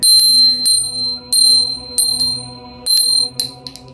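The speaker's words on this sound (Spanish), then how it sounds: "se oyen por todo el pueblo repicar las campanas de la iglesia" Bright metallic church bell strikes ring out in an irregular series, each with a clear ringing tone that fades quickly, several dings in a few seconds.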